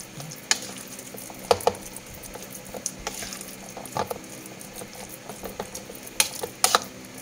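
Ground pork and beef being stirred together by hand for meatballs, a soft, wet squelching and stirring with scattered sharp clicks and knocks against the bowl, close and moderately quiet, with no talking.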